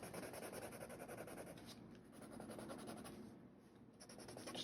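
A pencil rubs lightly around the edges of a drawing with soft, quiet scratching strokes that continue in uneven, brushing rhythms for several seconds.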